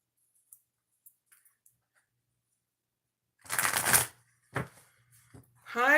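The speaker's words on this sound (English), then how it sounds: "I'm going to shuffle twice" A deck of oracle cards is shuffled twice up close, each pass a dense riffling flutter about half a second long, with a few light taps before and a person starting to talk after.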